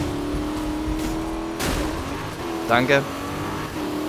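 Car driving in Need for Speed (2015), the American Monster build, with a steady engine drone running throughout, a brief surge around the middle and short tonal game effects near the end, while a voice speaks briefly over it.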